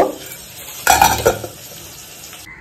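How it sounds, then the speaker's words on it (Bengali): Marinated chicken chaap pieces, coated in Kashmiri red chilli, salt, coriander and cumin, hit hot oil in a pan, giving a sudden sizzle with a few utensil scrapes and clinks, fairly close and without talk. "এবার আমি এর মধ্যেই চিকেন চাপের যেটা আমি রেডি করে রেখেছিলাম পিসগুলোকে আমি একটু ভেজে নেব"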